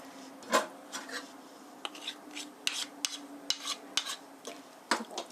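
A spoon stirs curry in a pot as it boils uncovered, giving soft scraping and rubbing strokes against the pot with brief clinks, fairly close and steady, with no talk.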